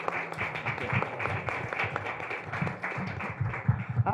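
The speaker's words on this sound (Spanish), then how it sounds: "Demos un aplauso" An audience at a sustainability communication panel claps for a speaker, a modest, uneven spatter of hand claps with a few distinct closer claps standing out.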